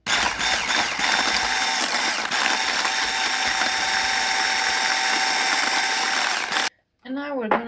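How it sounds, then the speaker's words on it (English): Cream being whipped for diplomat cream makes a loud, continuous mechanical whirring of beaters that stops abruptly near the end, followed by a short burst of speech. "And now we're gonna beat the whipped cream. We're gonna whisk the whipped cream."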